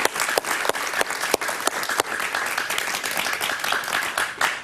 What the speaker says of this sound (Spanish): Un aplauso para Otto Reich